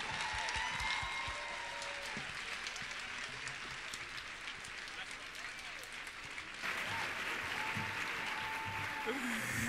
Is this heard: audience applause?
yes